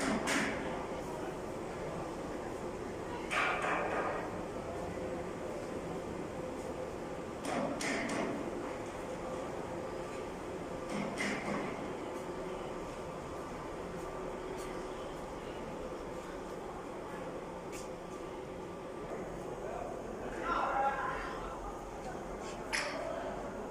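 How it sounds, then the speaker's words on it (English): An ultrasonic quilting machine running in a textile factory gives a steady mechanical hum and whir throughout, with occasional knocks and clanks, while a person talks over it. "This is an ultrasonic quilting machine."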